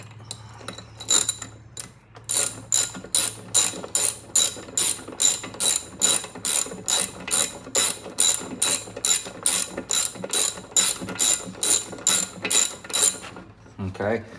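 A hand ratchet clicks in a fast, even rhythm of about thirty strokes while tightening a spark plug on a Stihl BR550 backpack blower, loud and close with a brief pause near the start.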